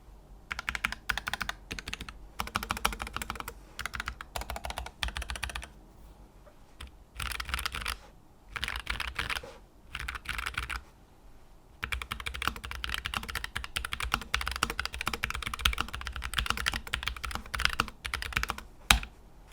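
Rapid typing in bursts on a Keychron K3 Max low-profile keyboard, crisp clacky keystrokes with brief pauses between runs, close and alone.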